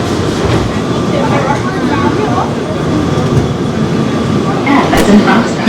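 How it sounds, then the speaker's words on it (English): An airport plane train at Hartsfield-Jackson Atlanta International Airport rumbles and rolls on the track as it pulls away, steady mechanical clatter with a brief high squeal near the end. "This train is departing."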